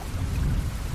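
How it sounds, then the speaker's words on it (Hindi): Heavy rain pouring with a deep rolling rumble of loud thunder underneath, a dense continuous wash of noise without breaks. "तेज गर्जन के साथ बारिश शुरू हो गई।"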